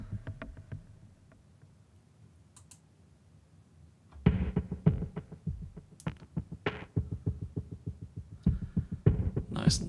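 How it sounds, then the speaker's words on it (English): Organic, natural-sounding tone from a Zebra synthesizer patch built with comb filters: a soft low throbbing hum at first, then a busier run of close plucky knocks and pulses in an irregular rhythm, with no voices. "Using comb filters to get that sort of natural organic sound."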